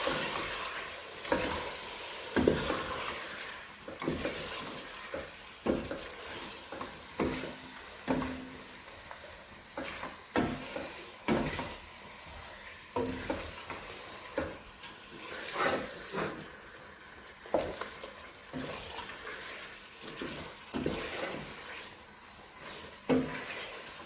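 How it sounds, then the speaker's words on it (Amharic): Spiced chicken frying in oil in a pan, a continuous sizzle broken by repeated clinks and scrapes of a utensil stirring and turning the pieces, moderately close and steady over a long stretch with no voices. "ጓደኞቼ እንደዚህ ጥብስ ታደርጋላችሁ ዶሮአችሁን።"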